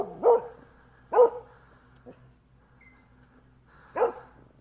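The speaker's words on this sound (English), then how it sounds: "Like the dog was barking already." A dog barks three times with long pauses between, sharp and fairly close, with a soft yip in between, heard from a replayed video in an otherwise quiet room.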